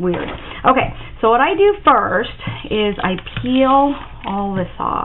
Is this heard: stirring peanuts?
no